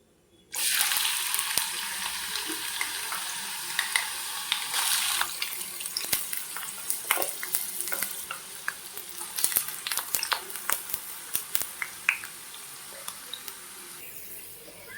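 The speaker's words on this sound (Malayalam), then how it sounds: "നമുക്കിനി ഇത് ഒന്ന് ഇഞ്ചി ഇതിനുള്ളിലേക്ക് ഇട്ടിട്ട് അതൊന്ന് വറുത്ത് കോരാം" Ginger pieces frying in hot oil in a pan for homemade ginger pickle, a steady close sizzle and crackle with occasional stirring scrapes, running throughout without talk.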